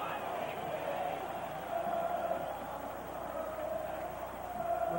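Stadium crowd at a Notre Dame versus USC college football game in the final seconds, a steady roar of many voices filling the stands, loud and continuous with slight swells.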